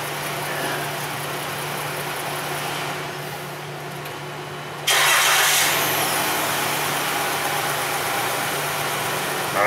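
A Dodge Grand Caravan engine idling, a quieter lull, then an abrupt restart into a louder, brighter steady idle; no talking.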